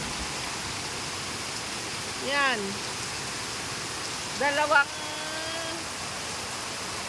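Heavy rain pouring with floodwater flowing down a street in a Philippine province, a constant broadband wash heard close, with a few short voices calling out over it.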